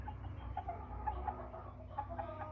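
American Bresse pullet clucking, a few soft, short clucks scattered across a quiet, low background hum, fairly close but faint.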